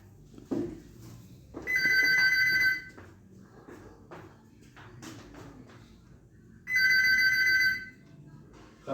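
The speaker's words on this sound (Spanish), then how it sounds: "contesta el teléfono." A telephone bell rings in two bursts about four seconds apart, each a bright electronic trill lasting roughly a second, heard against a quiet room with faint scattered knocks.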